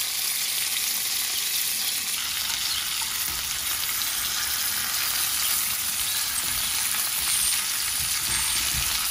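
Crab pieces coated in rava shallow-frying in a pan over a low flame, a steady dense crackling sizzle that runs continuously and close up with no one speaking.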